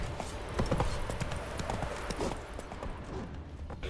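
Horse galloping in The Witcher 3 video game, a rapid, steady run of hoofbeats that stays close and fairly even for a few seconds.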